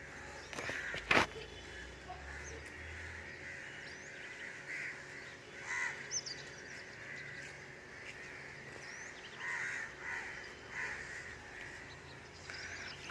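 A flock of birds calls outdoors at sunrise, with crow-like caws and scattered chirps over a steady open-air hiss, one sharper call standing out early and fainter calls recurring throughout.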